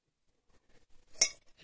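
A small old metal lota pot is handled in a quiet room: a few soft taps, then one sharp, bright metallic clink near the end, close by and faint.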